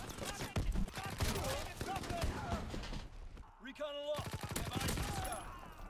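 Hip-fired gunshots from a Call of Duty WW2 gun ring out in rapid bursts, loud and dense, with a short gap before another run of shots and someone talking over the firing.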